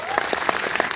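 Audience applause at an educational talk in Kolkata, a brief burst of close clapping with several distinct sharp claps in quick succession.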